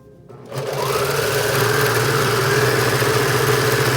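A sewing machine starts up after a short pause and runs steadily, close and loud, stitching a long back side seam on a garment pattern, with a constant motor hum and rapid needle rattle.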